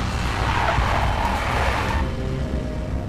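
Tires squeal and skid as a big black Mercedes swerves during a car chase in the Max Payne video game, a loud close screech that fades over a few seconds beneath engine noise.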